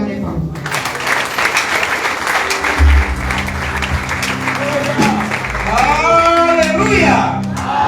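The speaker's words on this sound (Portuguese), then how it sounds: "Uma salva de palmas." A church congregation bursts into sustained applause and clapping, with shouts and cheers rising through the crowd while a voice speaks over it.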